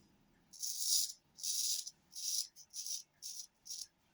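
Close, raspy scraping strokes of a vintage Jose Monserrat Pou Filarmonica straight razor across stubble, about seven in a row, each a short hissing burst with small pauses between.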